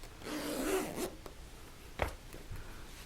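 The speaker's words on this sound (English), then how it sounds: "so I'm gonna go ahead and open my zipper here all the way to here" A zipper on a fabric iPad tablet case is pulled open in one long, close rasping run, followed by a few shorter tugs and faint handling noises.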